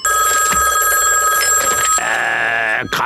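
A telephone rings in a SpongeBob SquarePants cartoon, a bright repeated bell with a sharp burst near the end and no speech over it.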